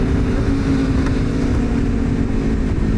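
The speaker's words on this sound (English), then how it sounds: "The bike just sounds really nice with that SC Project exhaust." Ducati Panigale SP2 motorcycle fitted with an SC Project exhaust, heard from riding behind it: a steady, loud engine drone with rumbling exhaust and wind buffeting throughout, no pauses.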